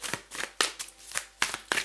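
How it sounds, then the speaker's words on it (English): Tarot cards being riffled and reshuffled by hand, a quick series of crisp papery bursts and flutters close up, with no talking. "I've just reshuffled the cards here just to make sure."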